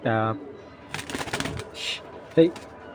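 A male white racer pigeon gives short cooing calls, one at the start and another near the end, close and fairly clear, with a voice talking in between.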